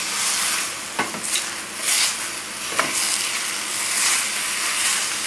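Mushrooms sauté over a gas flame in a pan for bowtie pasta with basil and pine nuts, giving a steady, moderately loud sizzle broken by a couple of brief scraping stirs.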